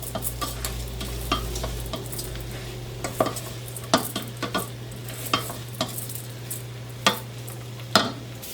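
Chicken and rice pelau sizzles steadily in a pot with a low hum underneath, while a spoon scrapes and knocks against the pot in repeated irregular strokes, heard up close with no speech.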